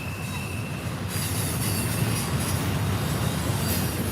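Norfolk Southern intermodal double-stack freight train passing at Horseshoe Curve, Pennsylvania, heard close up as a loud rumble of railcars with squealing wheels and a rhythmic clatter that grows after the first second.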